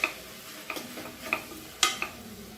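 Agathi greens sautéed in a pan, with a faint background sizzle and several light, separate scrapes and taps of a spatula stirring the leaves.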